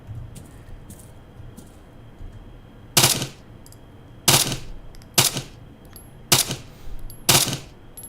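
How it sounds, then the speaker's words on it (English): Full-auto bursts from an ST Kinetics CPW 9mm in Arma 3: five loud, sharp cracking bursts spaced about a second apart after faint distant pops, over quiet ambient game background. "With the recoil of this 9mm, you might as well just full auto everything."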